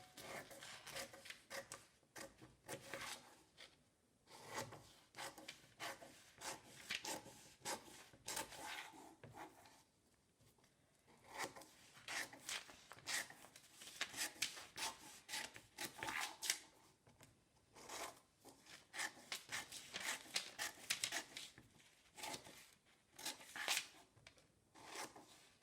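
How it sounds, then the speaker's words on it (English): Scissors snip through a paper sewing pattern for a flared set-in sleeve, making steady bursts of crisp, close cutting strokes with short pauses and paper rustle between them, with no talking. "I'm going to cut up all of those lines and flare my pattern out."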